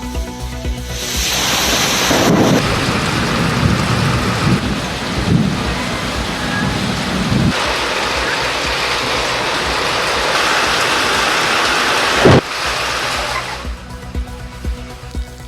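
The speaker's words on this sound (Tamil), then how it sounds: "சேலத்தில் பலத்த காற்றுடன் பெய்த மழையால் தனிந்த வெப்பம்" Heavy rain driven by strong wind in Salem, Tamil Nadu, a steady loud roar of downpour and gusts with a sharp thunder crack near the end, no voices.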